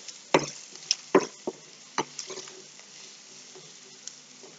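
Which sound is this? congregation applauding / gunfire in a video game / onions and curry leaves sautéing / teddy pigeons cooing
onions and curry leaves sautéing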